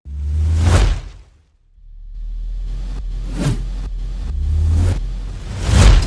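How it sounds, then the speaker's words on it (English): Swelling cinematic risers rise and fall in several waves, with roaring fireball-like bursts over a deep, steady rumble, in Cyberpunk 2077 sound design. "I use some cinematic risers that I've made and a fireball sound effect"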